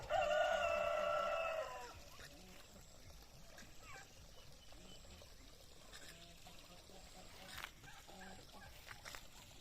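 A loud turkey call rings out up close for a couple of seconds, then fades into quiet outdoor background with faint scattered farmyard noises.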